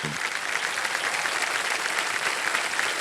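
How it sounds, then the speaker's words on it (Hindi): Steady applause from a large studio audience on the Indian TV quiz show Kaun Banega Crorepati fills the whole stretch, dense and even, with no voices on top. "तालियां बज जाए इनके लिए"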